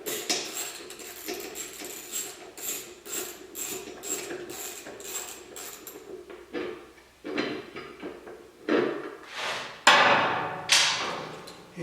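Bolts being taken off the cover of a Coleman B200, heard as a run of quick ratcheting clicks followed by louder separate clanks and thuds of metal handling, close up.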